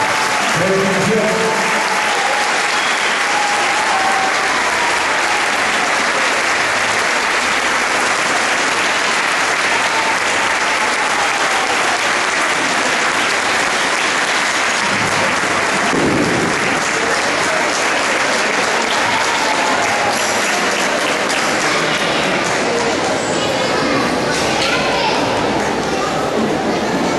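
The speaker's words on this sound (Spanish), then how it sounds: "vamos a despedir con un fuerte aplauso con la orquesta musical" A Christmas concert audience applauds a music orchestra from the Alma Llanera program in Táchira: loud, dense, unbroken clapping fills the whole stretch, with crowd voices and chatter mixed underneath.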